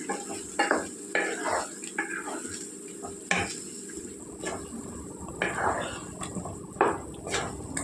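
Tomatoes stirred into a drumstick curry in a pan, a steady series of scraping spoon strokes over a gentle sizzle, close and moderately quiet, with a voice speaking intermittently.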